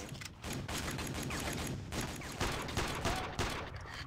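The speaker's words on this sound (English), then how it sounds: "These have a lot of machine guns." Machine gun fire in the shooter Iron Storm, rapid sustained bursts of automatic shots in quick rhythm, fairly distant and moderately loud, no talking.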